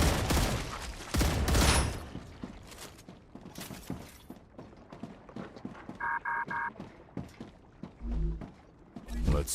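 Gunfire in the survival game StarRupture shooting at egg sacs comes as irregular bursts of loud shots, close and punchy, mixed with creature noises and short electronic game tones.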